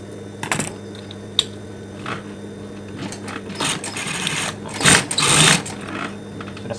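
A sewing machine stitches the inner lining of a mukena in a close run of rapid mechanical chatter, with several short bursts and louder surges toward the end and a steady motor hum underneath.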